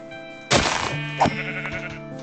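Minecraft sheep in the FTB Endeavour modpack bleats loudly and close, a sharp bleat followed by a second shorter one, over a steady droning game background with no talk.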